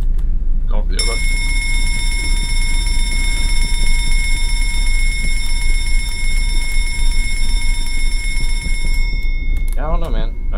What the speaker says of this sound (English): the alarms actually make this manageable.